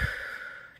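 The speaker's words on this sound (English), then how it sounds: "We're going to take 3 deep breaths together." One deep, breathy exhale or sigh, close and soft, drawn out briefly before trailing off.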